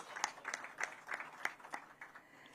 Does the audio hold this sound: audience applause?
yes